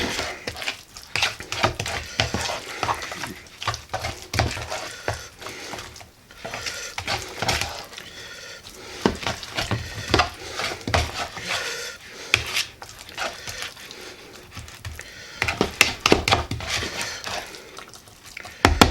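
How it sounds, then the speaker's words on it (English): A utensil scrapes and stirs avocado egg salad with pickled eggs, salt and pepper in a bowl, giving a continuous close rubbing, clattering sound with no talking. "And give it a good stir."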